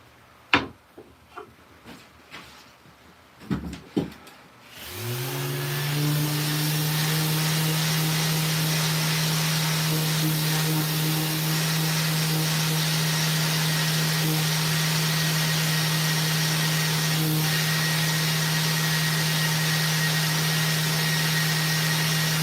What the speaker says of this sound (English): Oh, we got to sand that.